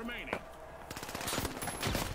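Rapid automatic gunfire in the shooter game THE FINALS rattles in dense, close bursts after a brief opening sound, loud and sustained to the end.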